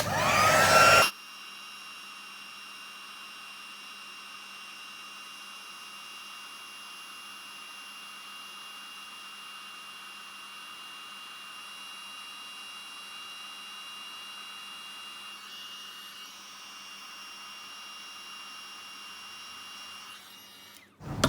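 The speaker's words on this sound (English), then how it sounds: "I'm going to bring my heat tool in and just melting that powder" A heat tool runs steadily for about twenty seconds, a continuous blowing hum, melting embossing powder on a stamped poppy card, with a brief clatter at the start and end.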